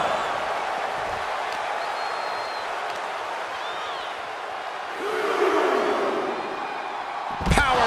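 A wrestling slam in WWE 2K24 during Axiom versus Faarooq lands amid a steady roaring arena crowd, followed by a sharp, heavy impact near the end.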